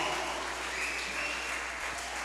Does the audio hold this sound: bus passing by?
no